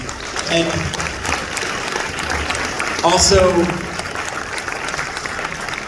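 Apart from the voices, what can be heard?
audience applause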